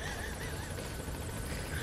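A helicopter's rotor thrums steadily with a whining engine tone, loud and constant throughout, in the video game Metal Gear Solid 5.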